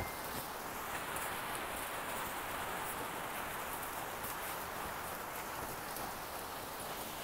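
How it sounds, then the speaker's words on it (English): Steady, dense hiss of heavy rain pouring down, constant and enveloping throughout with no voices. "it's absolutely pouring down with rain here yet again"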